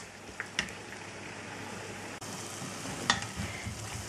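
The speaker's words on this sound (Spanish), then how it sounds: "vamos a echar el surimi y los tentáculos del calamar que lo hemos cortado muy finito. Y lo vamos a ir removiendo todo" Finely cut surimi and squid tentacles sizzle steadily in a hot pan, with a few sharp scrapes and clicks of stirring over the continuous fry.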